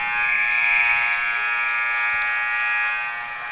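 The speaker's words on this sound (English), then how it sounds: "The buzzer goes at the end of one." Ice hockey arena buzzer ending the first period, one steady loud electronic drone holding for about three seconds before fading, with faint arena noise underneath.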